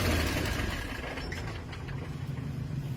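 A Mitsubishi Fighter truck's 6M60 diesel engine revs high with the accelerator pressed, giving a loud, steady, close-up drone that carries some roughness throughout.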